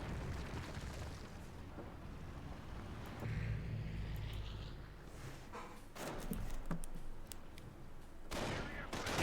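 Distant gunfire in a Company of Heroes battle pops in scattered shots and short bursts over a low rumbling backdrop of booms and engines, faint and far off.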